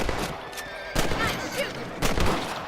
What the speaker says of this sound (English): Better at shooting rabbits than outlaws, I think.